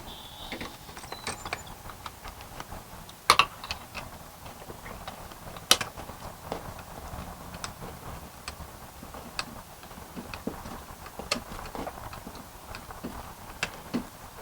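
Screw being tightened on a wire terminal of a retractable awning wall switch, giving faint irregular ticking and ratcheting clicks with a few sharper taps, close up over a quiet background.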